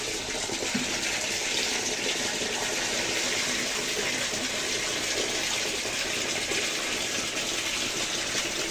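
Water gushes steadily into a plastic sprayer tank being filled halfway, a loud continuous rushing pour with no pause, close by.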